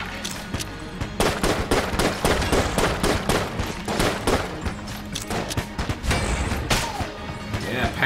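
Rapid revolver shots in the bullet-hell dungeon game Enter the Gungeon, a quick rhythmic string of sharp pops layered with other weapon fire and impact thuds over busy game music.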